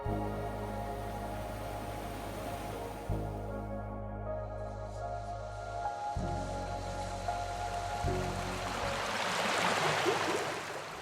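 A mountain river rushes past a rocky trail, giving a steady, close wash of flowing water with splashing hiss that swells toward the end.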